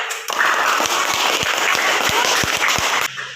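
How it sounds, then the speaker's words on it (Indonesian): Classmates applaud two students for their group work in a classroom, a short burst of brisk, lively clapping that stops abruptly after about three seconds. "Tepuk tangan untuk Bunga dan Ryan."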